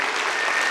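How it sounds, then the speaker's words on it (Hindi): Audience at a school annual function applauding a winning class-three group, steady dense clapping filling the whole short moment with no pauses. "तो इनके पहले आने के लिए, पहले नंबर में आने के लिए जबरदस्त तालियों से इस्तकबाल किया जाए।"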